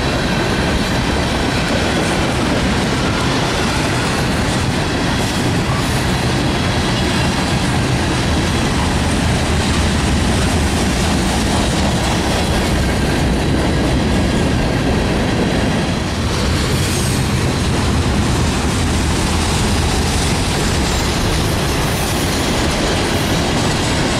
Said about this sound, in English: after this train will clear